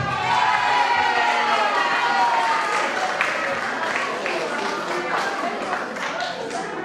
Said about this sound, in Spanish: También un aplauso fuerte para la señora Rocío Mendoza.